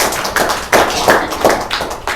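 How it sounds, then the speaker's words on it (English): Applause from an audience at a business opportunity presentation, heard up close as a dense, loud patter of clapping in uneven surges for about two seconds, with no voices over it. "So let's give all of us a round of applause."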